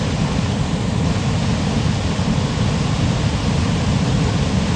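Water pours through four or five weir gates after heavy rain, making a loud, unbroken broadband roar with no voices.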